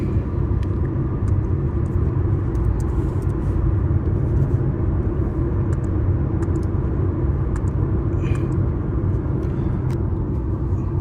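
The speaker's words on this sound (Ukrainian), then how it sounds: "Робимо тест-драйв автомобіля." Steady low engine rumble and road noise from inside a Volkswagen Passat B8 Alltrack on a test drive, continuous throughout with faint clicks above.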